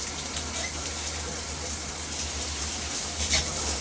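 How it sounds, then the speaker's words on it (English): Strong stream of water gushing from a hotel bathroom tap, a steady loud hiss and rush that stays constant, with a brief louder splash near the end and no talking. "There's lots of water coming out."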